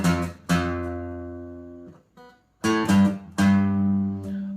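Electric or acoustic guitar playing the first eight bars of a song's outro: ringing picked phrases with sustained chords, a brief near-silent break midway, played alone up close.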